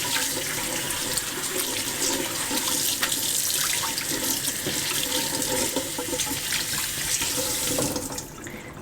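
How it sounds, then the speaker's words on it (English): Cold tap water runs steadily onto homemade paneer being rinsed in a sink. The gush is close and continuous, then thins out at the very end, with no talking. "cold water in here and then just really rinse this off well"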